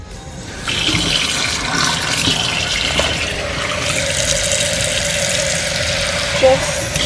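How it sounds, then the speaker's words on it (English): Running water pours steadily from a tap into a cooking pot, a continuous splashing hiss that starts abruptly and carries on throughout. "I'm going to fill up a pot with a little bit of water."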